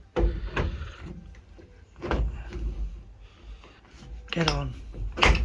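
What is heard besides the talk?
driver's door of a Ford Escort Mk2 being closed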